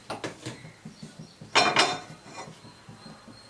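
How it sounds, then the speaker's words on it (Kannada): A metal pan set onto a kitchen stove while cooking veg fried rice makes a few light clinks and knocks, then a louder metallic clatter, then softer scattered taps, all close and without talk. "ಪ್ಯಾನ್ ಇಡ್ತಾ ಇದ್ದೀನಿ"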